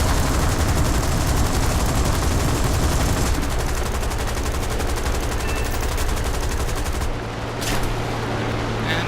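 Aircraft cannons in a video game hammer out dense, continuous bursts of rapid fire that roar loud and close for several seconds, then cut off abruptly into a quieter engine drone.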